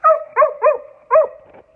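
A dog gives four sharp, close barks in quick succession, loud and clear with nothing else behind them.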